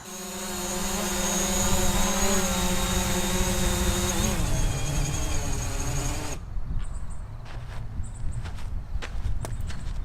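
A DJI Mavic Pro drone lands with its motors whining at a steady high pitch, then winding down and cutting out abruptly, followed by a few faint clicks and handling knocks nearby.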